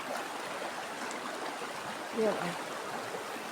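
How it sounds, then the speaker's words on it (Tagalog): Deep stream water flows in a steady, soft rushing wash, close and continuous, with a brief spoken word cutting in near the end. "Malalim ang agos ng tubig mga kamamsi."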